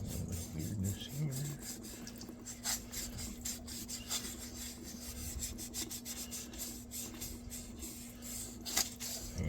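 Hand sanding of a rear brake caliper from a Honda Odyssey FL250 during a rebuild: a soft, continuous scratchy rubbing with quick back-and-forth strokes, fairly quiet and close, over a faint steady hum.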